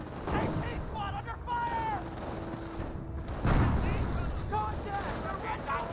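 Artillery fire and gunfire rumble through a Company of Heroes 1 battle, with a heavy blast midway among scattered shots, a voice talking over the combat.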